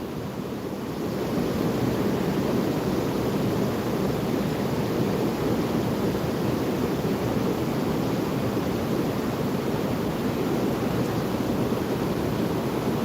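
Water pours over a spot in a calm river on a foggy morning while fishing, a steady, full rushing wash that holds constant and fairly loud throughout, with no voices.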